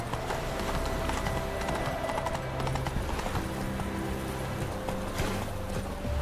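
Hooves of the horse Roach trotting in The Witcher 3: Wild Hunt, a continuous, even clip-clop rhythm over a dense game soundscape, moderately loud throughout.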